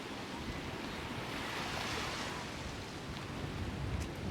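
Sea surf at a beach in Calatagan, Batangas washes in a steady, broad rush of breaking waves with some wind noise, fairly distant and even throughout.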